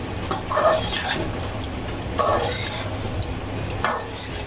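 Chopped green chilies hit hot oil in a karahi alongside whole red chilies for a mutton or beef karahi, giving a low sizzle with a few clinks and scrapes of a spoon against the metal pan.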